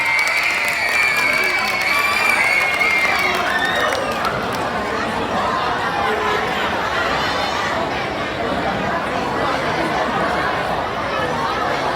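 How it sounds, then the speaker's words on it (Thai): A school audience claps and cheers steadily throughout after a third-grade performance, with chatter and shouts mixed into a dense, continuous wash of applause. "ขอเสียงปรบมือ"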